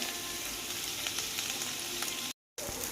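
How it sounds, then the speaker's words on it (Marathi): Boiled potato slices frying in a little oil in a home kitchen pan give a dense, steady, close sizzle with light stirring. The sizzle cuts out briefly near the end, then returns. "अगोदर बटाटा आपण तेलामध्ये फ्राय करून घेतो"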